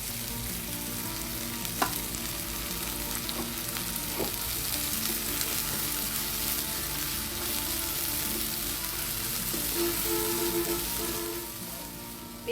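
Two large chopped onions fry in a pan for pasta, with a dense, continuous sizzle and crackle holding steady throughout, close and fairly loud, with a few faint utensil taps.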